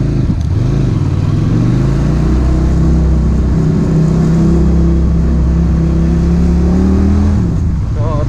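A QJMotor SRV 400 cruiser motorcycle on a test ride, its engine a loud, continuous rumble with rising and falling revs as it pulls away and shifts, with wind noise throughout.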